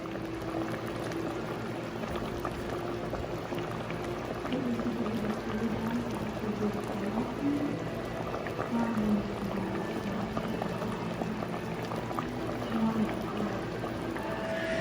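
Turkey macaroni soup with pasta simmers in a pot on the stove, giving a steady, soft bubbling and gurgling that stays even and close throughout, with no talk.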